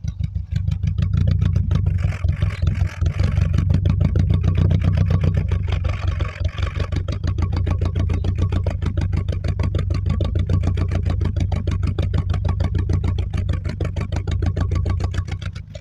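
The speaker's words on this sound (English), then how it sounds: "I'm going to put a mic near the exhaust," Volkswagen Golf 1 engine idling, miked close at the exhaust: a loud, steady low rumble with rapid even pulses, holding constant with slight wavering for the whole stretch.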